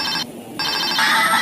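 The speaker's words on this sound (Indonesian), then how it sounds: "Ini ada telepon mobil-mobilan." A toy telephone rings with an electronic tone that breaks off briefly, then resumes steadily and close by.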